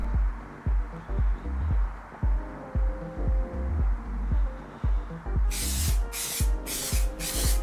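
Grey 1K epoxy etch primer sprayed onto a Nissan S15 Silvia rocker cover in short hissing bursts, with steady rhythmic thumping underneath; in the last couple of seconds four longer, louder spray passes follow one after another.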